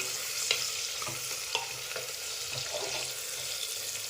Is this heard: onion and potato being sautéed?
yes